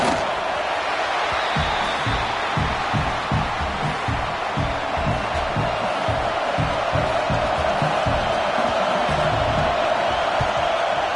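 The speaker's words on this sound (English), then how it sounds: "Oh, this crowd wants it." A college football stadium crowd at an Auburn game roars steadily throughout, a loud sustained cheer with rhythmic chanting or clapping pulses beneath it.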